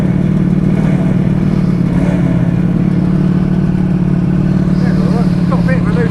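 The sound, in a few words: Yamaha RD 250 two-stroke motorcycle engine running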